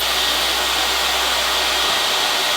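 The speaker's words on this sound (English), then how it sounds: "Basically just wrap it around the chopstick and dry for a couple minutes." A hair dryer runs steadily and loudly at close range, drying curly hair wrapped around a chopstick, its broadband whoosh holding for over two seconds before cutting off abruptly at the end.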